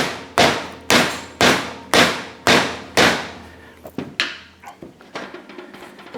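Six sharp, evenly spaced hammer blows ring out close by, tapping a wedge into an axe handle, followed by a scatter of lighter, quicker taps and knocks.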